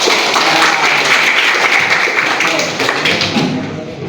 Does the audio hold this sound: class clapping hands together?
yes